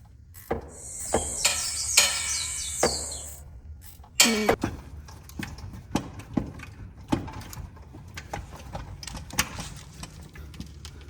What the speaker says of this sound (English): you take all them bolts out and drop that transfer case